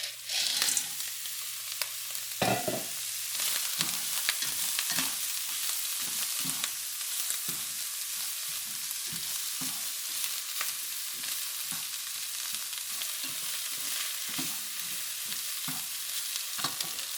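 Chicken yakisoba noodles and green peas stir-fried in a pan, with a steady close sizzle and repeated scraping stirs at an irregular rhythm, no voices.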